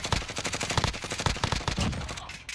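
Close, loud Call of Duty Warzone gunfire fills the moment, with rapid automatic bursts and overlapping shots hammering almost continuously and no talk on top.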